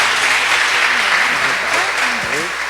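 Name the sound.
church congregation applauding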